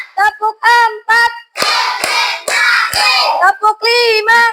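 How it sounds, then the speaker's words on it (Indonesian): A class of children claps hands in a set rhythm, bursts of clapping alternating with chanted group voices, loud and close in a classroom. "tepuk satu, tepuk dua, oke, tepuk tiga"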